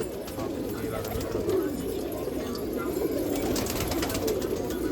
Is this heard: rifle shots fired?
no